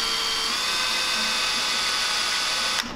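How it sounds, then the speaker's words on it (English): A rotary drill whines at a high, steady pitch while carving a flathead catfish swimbait, running continuously up close before stopping abruptly near the end. "then I move it as the drill spins"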